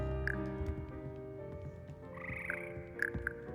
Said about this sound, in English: purchase the slimy yet symphonic frogs that comprise the Hogwarts Frog Choir